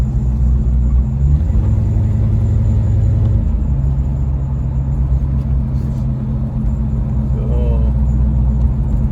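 A restomod 1937 Chevrolet Suburban Carryall with a fuel-injected 350 engine rumbles low and steady while being driven, a continuous close drone with cabin resonance under relaxed conversation.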